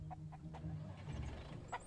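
A chicken in the survival game Mist Survival gives a few short, soft clucks in an uneven rhythm over a low background hum, fairly quiet overall.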